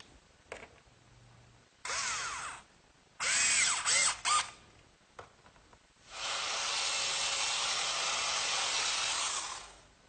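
A power drill drives screws to fasten wooden cleats to the rails of a bedside table, with several short whirring bursts and pauses and then a longer sustained run, fairly close and with no voices.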